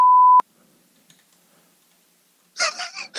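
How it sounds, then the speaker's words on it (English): A single loud, steady censor beep tone lasts under half a second, followed by near silence and then a voice speaking. "I'm going to put a big old beep on there"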